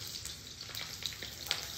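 Chile pepper slices dropped into a pan of frying chiles toreados give a close, steady sizzle, with light crackles and a few sharper pops along the way.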